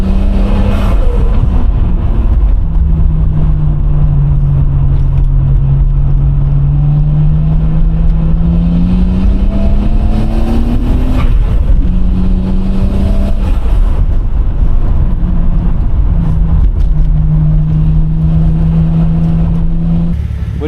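Cars on mountain roads in Japan, a steady close engine drone with gear-by-gear rises and falls in pitch as a car accelerates and shifts, loud throughout with no talk.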